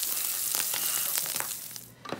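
Greasy chorizo sizzling in a pan with sharp crackles and pops of hot oil, a steady close hiss that thins toward the end.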